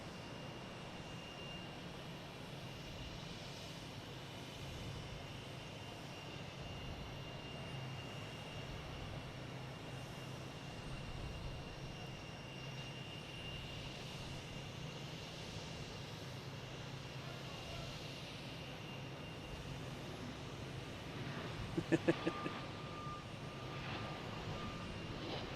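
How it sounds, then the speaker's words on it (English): A Delta Airbus A321neo jet takes off at Boston Logan Airport, its engine roar distant and faint, a broad steady rumble sustained for the whole stretch with no talk. "Next taking off is Delta, an A321 Neo,"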